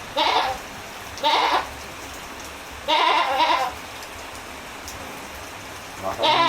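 A goat bleats four times at spaced intervals during heavy rain, each loud, wavering cry standing out over a steady, constant patter of rain on surfaces.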